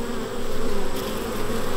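Honey bees buzz steadily at an open beehive during autumn queen rearing at an apiary, a dense, continuous close-up hum with no talking.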